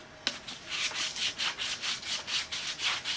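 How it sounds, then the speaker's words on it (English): Sandpaper scrubs heavy rust off the insides of a Jeep factory steel wheel in about a dozen steady, rhythmic strokes, close and fairly loud, with no one speaking. "I come in with the sandpaper"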